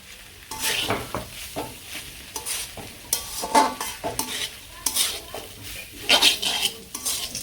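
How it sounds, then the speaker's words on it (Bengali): Small fish are stirred into a cooking pan over a village stove, uneven bursts of metal scraping and clanking with light sizzling between, close and loud. "এখন মাছগুলো দিয়ে দিই মাছ দিয়ে মিশিয়ে তারপরে নামিয়ে নেব"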